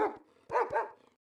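A recorded dog cry plays alone, as a short burst of yelping, tonal barks rising and falling over about a second, fairly loud and close.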